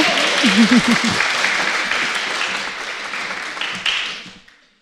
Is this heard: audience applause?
yes